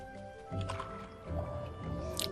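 A game character plunges under water in Ori and the Blind Forest, giving a short watery squish and gurgle over a sustained musical score, with a second splashy burst midway.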